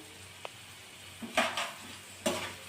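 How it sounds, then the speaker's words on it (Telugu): A spoon stirs asafoetida into hot oil for tempering while making red chilli pickle: a few sharp scrapes and clinks against the pan over a low, quiet sizzle. "ఇంగువ కలుపుతున్నాను దీంట్లోకి."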